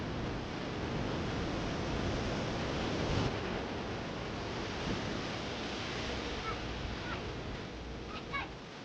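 Waves wash in a steady broadband roar at a beach, constant and fairly loud with a few faint voices and bird-like chirps in the background.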